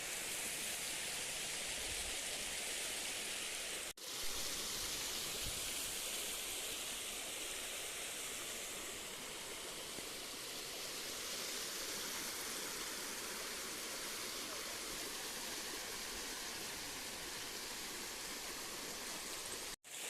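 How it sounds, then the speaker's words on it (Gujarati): Water pouring over a dam on the Malan river, making a loud, unbroken roaring rush that holds steady from start to finish with no voices. "આ બાજુથી પાણી આવે છે તમે જોઈ શકો છો અને મિત્રો આ છે ડેમ"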